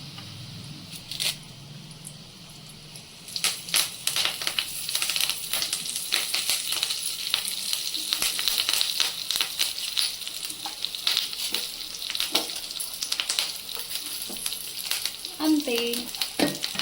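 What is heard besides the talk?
curry leaves and spice powder frying and being stirred in pan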